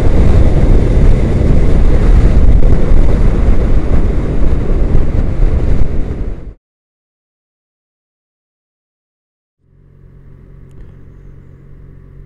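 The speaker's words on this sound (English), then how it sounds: "It's seriously windy." Strong wind buffets the microphone in a loud, continuous roar for about six seconds, cuts to silence, then returns as a softer, steadier gust with a low rumble.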